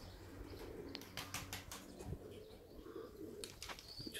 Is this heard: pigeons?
yes